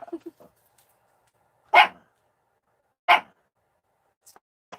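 A dog barks sharply twice, the barks spaced over a second apart, loud and close in an otherwise quiet room, with a few faint yips around them.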